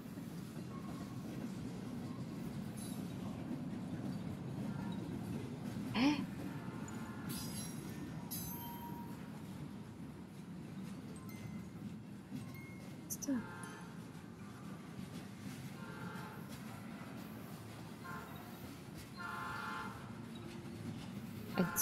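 Train rolling past in the video game Die Stille des Windes, a steady low rumble running throughout with faint clicks and brief higher squeaks on top, no voices.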